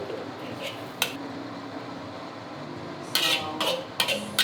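Dried radish strips stir-fried in a dry pan over low heat, with occasional short scraping and clattering bursts of a utensil against the pan over a quiet background.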